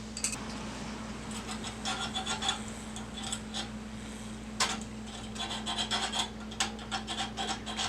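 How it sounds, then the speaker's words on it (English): A small rat tail file rounds out a corner of a metal part for an aircraft exhaust manifold, making soft intermittent rasping strokes over a steady low background hum. "I'm going to use a small rat tail file to round out that corner so there's not a stress riser"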